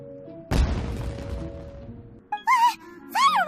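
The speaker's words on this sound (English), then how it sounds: "It sounded like fireworks." Fireworks go off in a video game as a single deep boom with a rumbling tail, followed by brief character voices.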